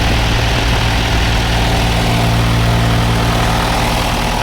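A backhoe's diesel engine, just started, settles into a steady loud idle with a deep rumbling drone and constant vibration and no pauses.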